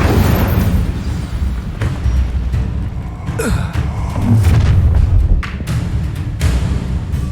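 An Incendio fire spell is cast in Hogwarts Legacy amid combat, with loud booming bursts and thuds, crackling impacts and rumbling effects that layer over one another.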